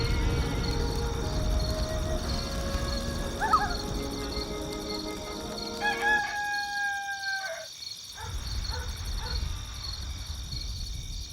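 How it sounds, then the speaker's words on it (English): A rooster crows in the video game Black and White 2, a long rising and falling cock-a-doodle-doo over a dense outdoor bed of insects and ambient game sound, with no talking. "This rooster wakes me up every single day."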